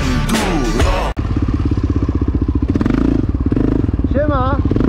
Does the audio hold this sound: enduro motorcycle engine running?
yes